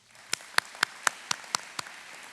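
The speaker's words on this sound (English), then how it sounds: "A round of applause for them, please." A few sparse hand claps in a steady rhythm at a high school graduation ceremony, seven or eight distinct claps that are fairly faint, with no voices.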